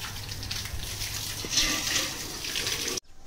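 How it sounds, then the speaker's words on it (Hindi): Water running from a hose pipe into a container for bathing at home, a steady close hiss and splash lasting about three seconds before cutting off abruptly. "तुम्हारा भाई अभी पानी भर रहा नहाने धोने के लिए"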